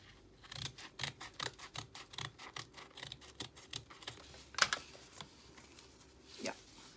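Scissors cutting paper for a handmade junk journal, a quick series of close, crisp snips in an irregular rhythm with a few softer rustles of paper between cuts, quiet and alone.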